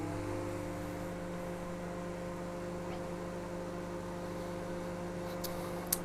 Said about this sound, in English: Microwave, 10 seconds, start.